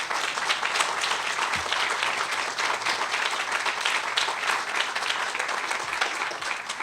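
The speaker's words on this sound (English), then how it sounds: "she deserves the biggest round of applause." Audience applause at the opening of a police district station, a sustained, even burst of many people clapping that stays loud throughout, with no talking over it.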